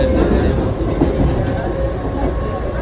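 A local train near Thane rumbles loudly and steadily close by, a continuous heavy roar of wheels on rails with a faint high squeal.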